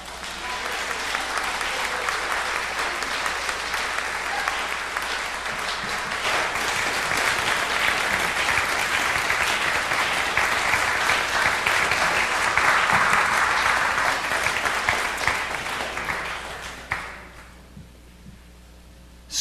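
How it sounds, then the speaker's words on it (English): A congregation at a church service breaks into loud, sustained applause from many hands, building and holding for about sixteen seconds before quickly fading into near quiet. "Now that deserves a round of applause."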